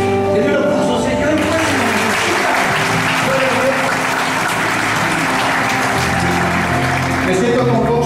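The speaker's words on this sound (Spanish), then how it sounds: "Denle un aplauso, Señor." A church congregation applauding, a dense, loud and sustained clapping from a large crowd that carries evenly through most of the stretch, with a voice and faint music heard beneath at the start and end.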